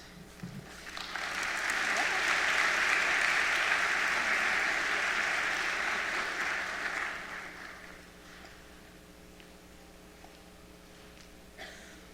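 Seniors at a high school senior assembly receive a round of applause from the audience, swelling into sustained clapping for several seconds before tapering off to quiet room noise.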